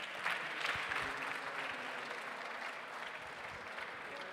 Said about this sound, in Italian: Un applauso per il Corriere.